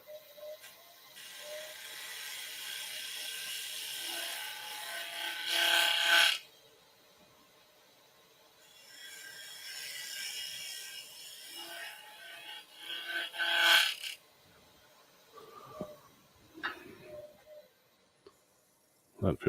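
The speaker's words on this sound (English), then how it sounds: "raise the tool rest, and we'll scrape down here and out to the side" A turning tool scrapes a wooden five-sided dish spinning on a lathe, giving a steady rasping hiss in two long passes, each ending in a brief louder burst, followed by quieter scattered scrapes and knocks.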